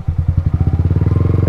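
A motorcycle engine idles close by with a rapid, steady putter while the bike stops near Ragatan Falls, by a river in Cavite.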